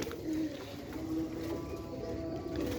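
Home-bred game pigeons coo softly and repeatedly at close range, low murmuring calls blending with a faint steady background hum.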